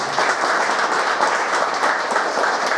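Loud, dense applause from a crowd at an inauguration ceremony for a shelter and heated swimming pool, many people clapping continuously and close for the whole stretch.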